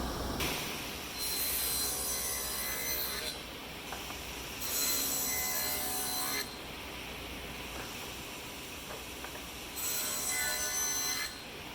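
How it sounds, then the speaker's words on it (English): A power saw whines through wood cutting a dado, in three long, loud cuts separated by brief pauses, with the motor idling in between. "I'll cut a dado out."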